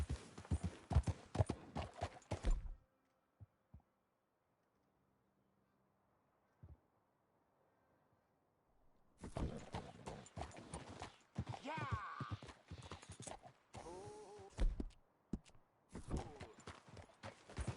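Horse hooves pound in a fast gallop through Red Dead Redemption 2, a burst at the start, a silent gap, then a longer run of clip-clops while someone talks.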